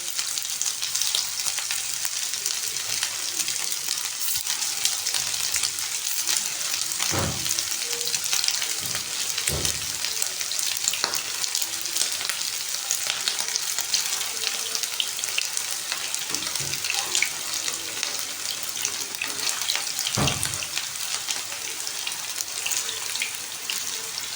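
Kofta kebabs fry in hot oil over medium heat, a steady loud sizzle running throughout with a few sharper spits and pops rising out of the constant crackle.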